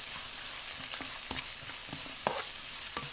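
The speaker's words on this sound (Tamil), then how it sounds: "வதக்கி விடணும்." Small onions sautéing in a pan with a steady close sizzle and frying hiss, broken by occasional stirring scrapes and clinks, with no voices.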